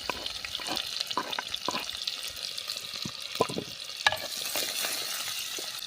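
Finely chopped onion sautés in oil with cumin seeds in a pan, a soft, fairly quiet sizzle broken by repeated close scraping strokes of a spatula as it is stirred.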